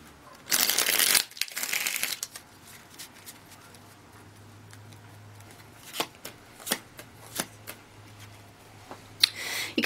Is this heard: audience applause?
no